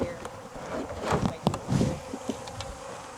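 Honey bees buzz steadily during a hive relocation, a dense close swarm drone with occasional louder passes near the listener.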